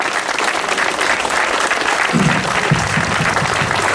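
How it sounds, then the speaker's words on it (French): A crowd applauds loudly and steadily in tribute at a town memorial gathering in Steenvoorde, a dense continuous wash of clapping that stays strong throughout. "je vais vous demander de l'applaudir très fort"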